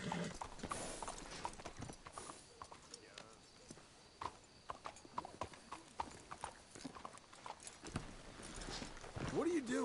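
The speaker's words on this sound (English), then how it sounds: "Let's hitch the horses up ahead." Horse hooves clip-clopping in Red Dead Redemption 2, a steady walking rhythm of close hoofbeats, with characters talking over it and a horse snorting near the end.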